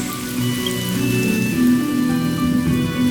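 Rain falling in the Honkai Star Rail video game, a steady close wash of raindrops pattering on surfaces, continuous and fairly loud with no talk.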